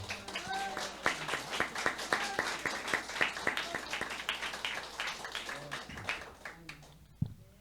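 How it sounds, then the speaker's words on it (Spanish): Church congregation applauding after a testimony in a Spanish-language service, a dense burst of many hands clapping that starts loud, holds and then thins out toward the end. "Un aplauso a Jesucristo y a Manuel."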